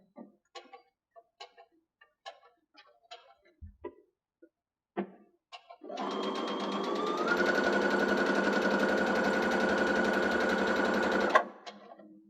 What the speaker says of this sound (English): I'm going to fold this down here at the lines you've made and sew it down.